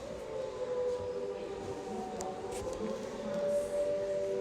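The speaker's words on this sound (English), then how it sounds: "The sound is the siren." A steady wailing siren on a vehicle at the London Transport Museum drones on throughout, its pitch holding level and rising slightly near the end, with faint background noise.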